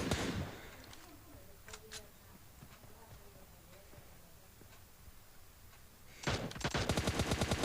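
Gunfire in the mobile battle game PUBG Mobile Lite: scattered single shots through a quiet stretch, then a loud rapid burst of automatic fire toward the end, with faint talk in the background.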